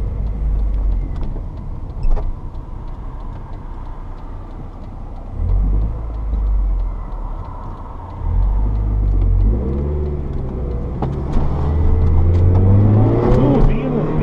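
A BMW passes a car with a GoPro mounted on it, heard as steady road rumble and engine noise with a rising drive-by swell near the end.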